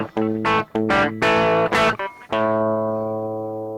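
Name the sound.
guitar through Fender Dual Pugilist distortion pedal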